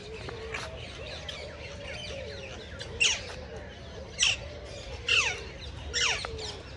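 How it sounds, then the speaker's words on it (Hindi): Harsh, loud squawks from parrots burst out at an outdoor spot in Islamabad, four short calls spaced about a second apart over a steady background of chirping birds. "तोते भी हैं"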